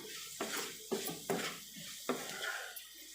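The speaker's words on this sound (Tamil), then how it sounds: "இப்போ எல்லா இடத்துலையும் படுற அளவுக்கு நம்ம பெரட்டி எடுத்துக்கலாம்." Spiced potato fry being tossed and stirred in a pan with salt: a steady sizzle broken by four or five scraping, clattering stirs of a spoon against the metal pan, close and alone.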